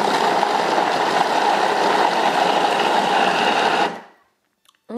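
A Thermomix running at speed 5 shreds cabbage and carrots with a steady, loud, whirring motor drone, then stops abruptly near the end, leaving near silence.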